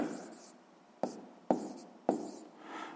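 Handwriting of a grade-6 maths exercise, three distinct close tapping strokes with scratchy tails over a soft rustle, quiet, with faint breathy voice sounds near the end.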